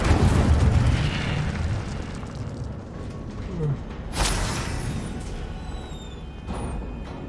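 An Incendio fire spell cast in Hogwarts Legacy, a whooshing burst of flame with a sharp boom partway through, over low rumbling game ambience and brief high magical shimmers.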